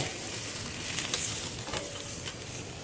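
Tandoori chicken sizzles on a hot grill, a continuous crackling fry with a few brief sharper spits and scrapes as pieces are flipped, fairly close and alone.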